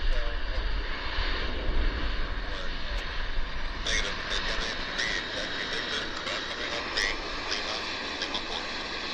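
WestJet Encore Dash 8 turboprop at Vancouver Airport, a steady engine drone and roar held throughout with brief higher whines, heard from the ground at moderate distance.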